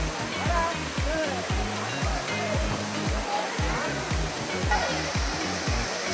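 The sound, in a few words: Dudhsagar waterfall cascading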